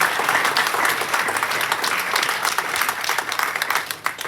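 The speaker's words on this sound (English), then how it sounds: "The round of applause." A loud, sustained round of applause from the crowd at a referees' association annual general meeting, dense clapping from many hands continuing for several seconds without speech.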